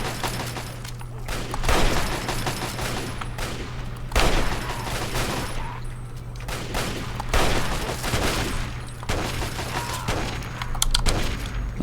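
Automated turrets firing in Fallout 3 at Point Lookout, a steady stream of gunfire bursts with louder volleys recurring every couple of seconds over a constant low hum, no talking.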